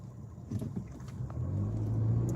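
A parked car idles with its engine left running, a low steady hum heard from inside the cabin that swells slightly toward the end, with a few faint clicks and no talking.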